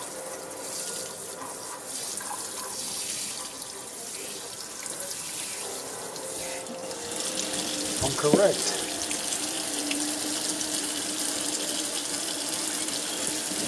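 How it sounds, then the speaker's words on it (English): Hot water runs continuously from a tap into a sink, a steady rushing stream with a short clatter partway through and a person speaking briefly. "Let the hot water get to going."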